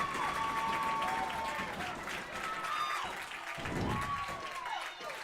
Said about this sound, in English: They're on their feet, they're stomping, they're clapping